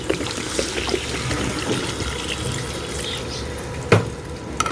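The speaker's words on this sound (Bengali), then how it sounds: "এবার দিয়ে দেবো জল" Water poured into a pot of chicken curry with pointed gourd, a close splashing trickle over the sizzle of the masala, ending with a sharp clank near the end.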